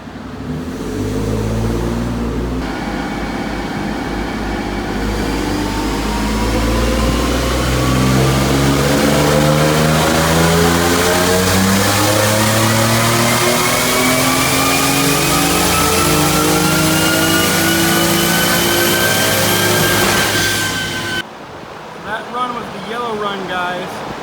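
A turbocharged 3.7L V6 Mustang engine revs hard for about twenty seconds, rising steadily in pitch through a long pull, then cuts off abruptly. The sound is loud and close.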